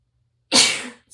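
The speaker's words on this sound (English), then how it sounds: "I'm going to sneeze" A single sharp sneeze from a woman with allergies, loud and close, bursting out after silence and trailing off into a breathy tail.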